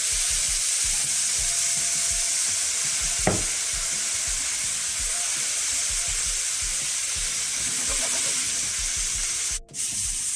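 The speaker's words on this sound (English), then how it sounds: "we're gonna add some soy sauce in here" Roast pork and vegetable stir fry sizzling hard in a hot pan after soy sauce goes in, a steady close hiss with a brief clink partway through and no voices.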